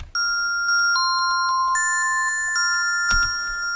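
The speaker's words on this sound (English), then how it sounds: "this would be great for like a kind of very high-pitched bell kind of sound" A synthesizer patch plays a series of very high-pitched bell tones, clear struck chimes with long ringing overtones layered over one another, loud and close, with a soft low thump near the end.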